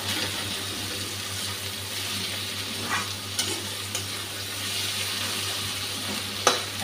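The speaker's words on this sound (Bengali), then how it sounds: "টমেটোটাও ভালোভাবে ভাজা হয়ে এসছে পেঁয়াজের সঙ্গে।" Tomato and onion fry together in a pan with a continuous sizzle, punctuated by a few spatula scrapes and taps as the mixture is stirred.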